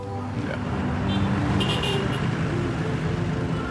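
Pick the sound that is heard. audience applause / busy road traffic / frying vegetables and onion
busy road traffic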